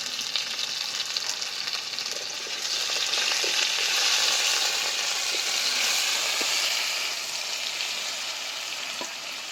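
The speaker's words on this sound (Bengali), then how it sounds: "আলুর ওপরে লবণ হলুদ দিয়ে ভেজে নেব" Potato pieces coated with salt and turmeric fry in hot oil, giving a steady, dense sizzle that swells slightly in the middle and holds close and loud for the whole stretch.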